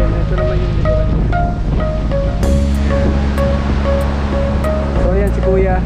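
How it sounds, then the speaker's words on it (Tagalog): A strong seaside gust on the Ilocos coast at Pagudpud, roaring steadily against the microphone over crashing surf, with voices talking underneath. "biglang buga ng hangin. Lakas."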